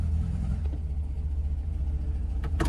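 An abandoned project car's engine idles with a deep, steady rumble close by as it reverses, pulsing evenly, followed by a couple of sharp knocks near the end.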